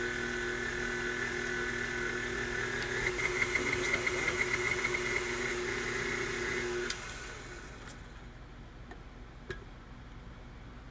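An electric hand mixer whirs steadily as it beats powdered sugar into icing in a bowl, a continuous motor drone that drops to a lower, quieter hum partway through, with a few light clicks near the end.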